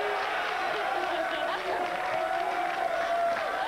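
A studio audience on a family game show cheers and applauds in a continuous, dense wash of clapping and voices, steady and fairly loud throughout, with talk mixed in.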